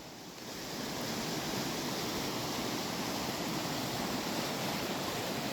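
A small creek on an off-grid homestead runs down toward a culvert, giving a steady, broad rushing wash of water that stays constant and fairly close, with no voices.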